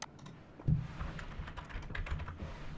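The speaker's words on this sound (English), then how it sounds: "So the only thing left to do is go to search and type Grinch" Typing on a computer keyboard while searching Netflix, a steady patter of close key clicks running through the whole stretch with one heavier thump early on.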